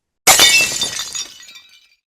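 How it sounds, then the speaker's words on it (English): A phone screen shattering as it's slammed onto the floor: one sudden loud glassy crash with a spray of tinkling shards that decays over about a second and a half, alone with no voices. "Shatter screen."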